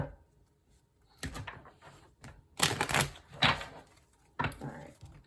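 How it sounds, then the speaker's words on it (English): Tarot cards are shuffled in short, irregular bursts of riffling and slapping, close to the microphone, with quiet gaps between them. "one more shuffle for Aries"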